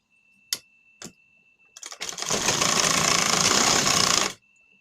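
Sewing machine stitching a half-inch seam joining the lined shoulder of a blouse: two isolated clicks, a few stuttering starts, then a steady close rapid whirr of stitching for about two seconds before stopping abruptly.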